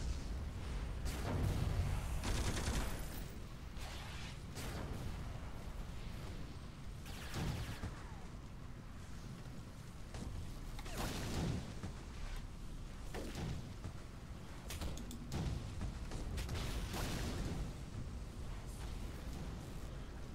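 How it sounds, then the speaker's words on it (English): Mortar fire from Equalizers in City of Heroes comes as a series of faint, distant booming thumps spread irregularly over a low rumbling background of game noise. "Is it the equalizers that have the mortars?"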